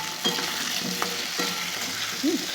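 Boiled potatoes fry in hot oil in a home kitchen pan with a steady, close sizzle, and a few brief stirring scrapes break through near the start and again near the end.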